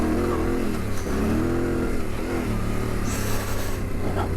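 A Honda XR650L retro rally build motorcycle ridden off road, its single-cylinder engine droning loud and close with rising and falling revs and a throttle surge near the end, alone without any voices.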